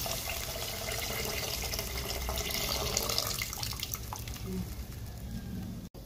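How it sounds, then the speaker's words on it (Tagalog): Water is poured steadily into a pot of pork soup with eggplant, giving a continuous close splashing gush that runs for several seconds and then stops abruptly. "Lagyan natin sa patubig para sa pagpapalambot at magsaserve na rin itong sabaw natin."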